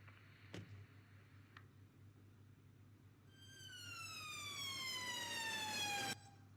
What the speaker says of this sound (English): Do you wish to turn those sirens down a wee bit?